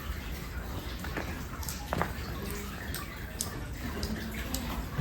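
Water flowing and dripping in an underground river cave in East Java, a steady rushing wash with scattered small drips and splashes echoing close by.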